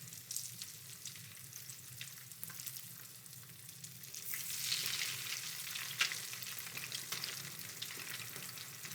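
Salmon patties fry in cooking oil in a pan on a gas stove, giving a steady crackling sizzle throughout that swells a little louder midway, with no talking.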